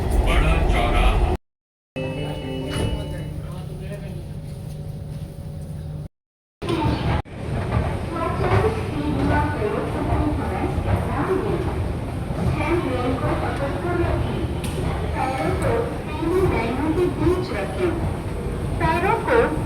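A metro train runs between stations with a loud, continuous rumble and rattle of the carriage. A station announcement plays inside the car, and people talk over the noise.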